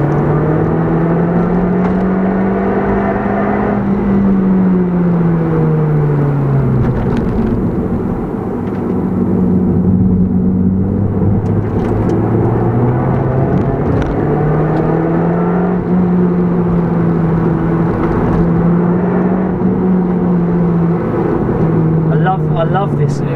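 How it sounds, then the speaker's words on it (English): A Toyota Yaris GRMN Gazoo Racing hot hatch's exhaust drones steadily while it is driven, the pitch rising and falling through revs and rev-matched downshifts, loud and continuous throughout. "I love this naughty little exhaust note it's got."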